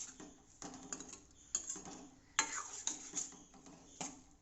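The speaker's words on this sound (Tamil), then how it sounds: "ரொம்பவும் உடையாமல் கிளறி விடணும்." A spoon gently stirs salted food in a cooking pot, making soft, scattered clinks and scrapes against the metal that come at irregular intervals and stay quiet and close, with no talking.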